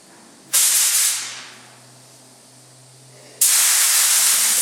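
A spray gun lays a red base coat onto a mailbox in two loud bursts of hiss, the first fading away and the second holding steady. A low hum runs quietly underneath between them.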